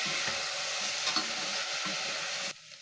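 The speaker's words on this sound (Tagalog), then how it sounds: "Haluin lang ito." Potato and sliced mushroom sizzle in a frying pan while being stirred, a steady close hiss with light scraping strokes that cuts off abruptly at the end.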